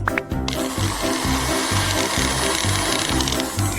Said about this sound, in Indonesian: Oke, tolong haluskan.